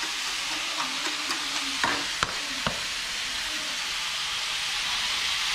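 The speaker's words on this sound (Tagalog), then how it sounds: "So, mag-prito rin ako ng tuyo." Dried fish frying in a pan gives a steady, close hiss and sizzle, with a few sharp crackles and pops breaking through.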